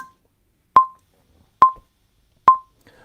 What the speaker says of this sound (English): So let me start the metronome first.